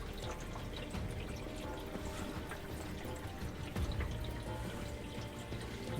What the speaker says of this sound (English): top of the car with water obviously running over the roof